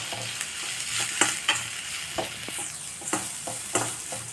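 Capsicum sautéing in a pan while a spatula scrapes and stirs it in repeated sharp strokes over a quiet background sizzle.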